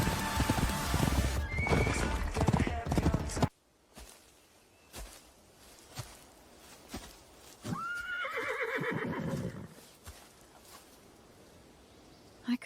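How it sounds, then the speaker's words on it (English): Video game horse whinnying loudly and clopping its hooves in the opening seconds, followed by scattered soft thumps and a second, fainter whinny midway through. "I could have sworn I heard a horse."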